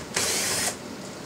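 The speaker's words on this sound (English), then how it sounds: "I'm going to take these two screws off." A single short whirring burst from a power screwdriver backing out a Phillips screw on a 2003-2007 Honda Accord driver's door, close and loud, then quiet.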